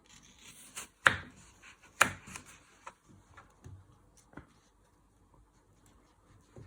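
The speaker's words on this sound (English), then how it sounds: "So you first chop it in half." Knife chopping an apple in half on a board: two sharp, close thuds a second apart, then several lighter taps and small scrapes in a quiet room, with no speech.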